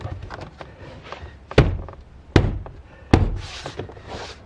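Three sharp, solid knocks at a steady spacing as the inner door panel of a Chevy Bolt is tapped so its pins seat into the door, with quieter handling noise between the hits.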